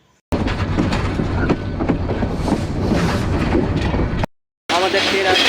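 Kurigram Express, a Bangladeshi train on the Joypurhat to Dhaka route, rumbles steadily along the rails, loud and close from inside the carriage, cutting off briefly before the noise resumes.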